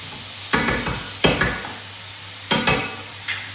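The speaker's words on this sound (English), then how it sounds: "while that's frying up" Several bursts of crackling sizzle as vegetables are stirred into hot olive oil for a ratatouille, with quiet pauses between them and a faint steady hum underneath.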